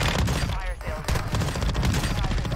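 Loud, close shotgun blasts and rapid gunfire from Call of Duty Warzone 2 pound in dense succession over a brief moment, with a player's voice talking over the shots.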